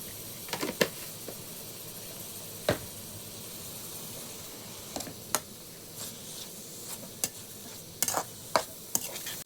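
Onions frying with salt in a pan, stirred repeatedly: a steady close sizzling hiss broken by sharp scraping clicks of the spoon against the pan at irregular intervals.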